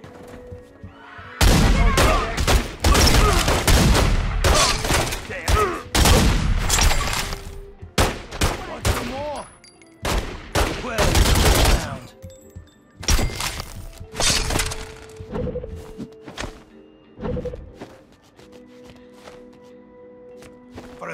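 Gunfire rattles through a Godfather II gunfight in loud, dense volleys of shots with shattering impacts, then thins into scattered single shots under intermittent game sounds.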